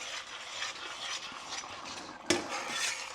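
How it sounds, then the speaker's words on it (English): A spoon scrapes and clinks steadily against a pan while stirring a thick curry base sauce for a hot Madras curry, close and fairly quiet, with one sharper knock near the end. "So we stir that in."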